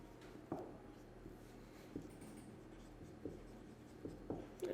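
Marker or chalk writing on a classroom board during a computer lesson, heard as soft scratchy strokes with a few sharper taps, fairly quiet over a steady room hum.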